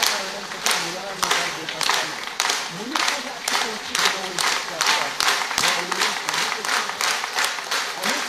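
Devotional Marathi bhajan gathering where the audience claps together in steady unison, a regular train of sharp hand claps running throughout, mixed with voices singing or calling along.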